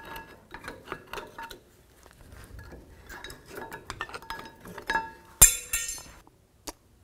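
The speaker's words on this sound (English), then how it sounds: "pry out the brake pads" A straight-blade screwdriver pries out the rear brake pads of a 2009-2018 Ram 1500, making sharp metallic clinks and scrapes in scattered bursts, with a louder clatter near the end and no talk.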